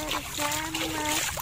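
Water is poured and splashed over a toy sand truck during cleaning, a short burst of splattering and trickling under a talking voice.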